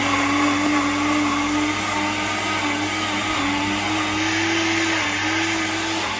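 A blender grinds boiled chickpeas for hummus, a loud, steady motor whine with a held pitch that wavers slightly as the blades churn the thick mixture, running continuously with no voices.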